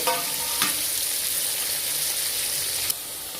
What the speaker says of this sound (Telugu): ఇదిగోండి బోటి వేసాను కదా ఇప్పుడు బాగా కలుపుకోవాలి మసాలా అంతా పట్టేటట్టు